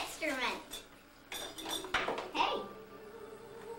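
Small plastic balls rattle and clatter inside a toy in quick bursts, with a voice briefly heard in the background.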